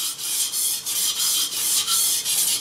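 A knife edge grinds back and forth on a coarse 180-grit Suehiro whetstone, a loud, gritty rasping repeated in steady strokes about twice a second, close to the listener.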